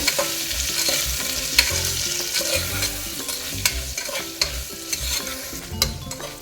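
Jackfruit seed gravy with salt and homemade garam masala frying in oil, stirred vigorously with repeated scraping and clanking strokes of a spoon over a continuous sizzle, close and fairly loud.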